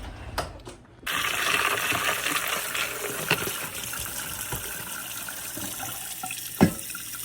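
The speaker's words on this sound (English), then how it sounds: "I want to get all this red stuff rinsed before it stains everything." Kitchen sink tap running, water gushing and splashing steadily while red stains are rinsed from dishes, close by, with a few clanks of items in the basin.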